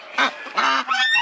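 Farm goose honking loudly and close by, three harsh nasal calls in quick succession with no talk over them.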